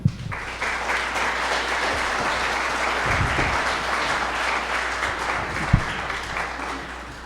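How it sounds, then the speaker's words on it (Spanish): An audience at an architecture lecture applauds Dr. Villalobos with dense, sustained clapping that holds steady for several seconds, one sharp louder clap standing out near the end. "para quien pido nuevamente un fuerte aplauso"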